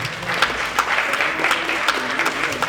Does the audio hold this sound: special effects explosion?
no